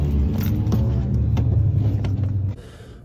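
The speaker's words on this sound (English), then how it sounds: "I'm hearing a lot of sexy ass cars right now." Loud cars drive nearby with a deep, continuous engine rumble that holds steady for a couple of seconds and then drops away abruptly near the end, with no talking.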